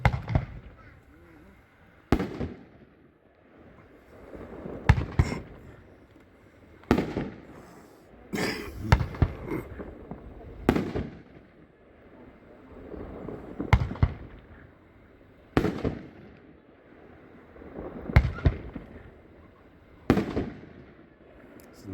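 A 9-shot Star Spangled Salute fireworks cake fires in a demo, with about nine sharp booming shots spaced a couple of seconds apart, each followed by a crackling tail, loud and outdoors.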